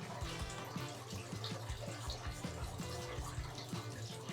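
Water poured into a spider enclosure during an unboxing of rare spiders, an irregular run of soft splashes and trickles, close and fairly quiet.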